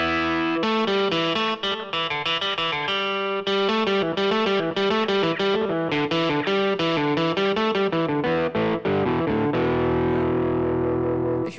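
A Yamaha Tyros 5 arranger keyboard plays a heavily distorted electric guitar voice, loud and continuous, with chugging chords and quick rhythmic note changes throughout and no talking.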